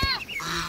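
Ducks on a homestead call out beside a freshly filled pool, giving a brief, fairly close burst of nasal quacking and honking.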